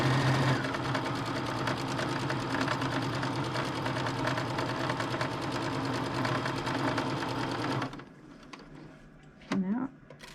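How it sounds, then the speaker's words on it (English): A sewing machine stitches fabric for a Christmas stocking in a fast, even run of needle clatter lasting several seconds, then stops as a voice speaks briefly. "Lift up the foot pedal. Okay, and then sew."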